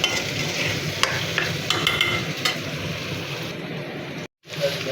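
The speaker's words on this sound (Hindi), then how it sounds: "तो अभी हम इसको फ्राई करते हैं थोड़ी देर के लिए" Minced meat keema frying in a pan with salt and chili, a continuous close sizzle with occasional scraping stirs and a brief dropout near the end, with no voices.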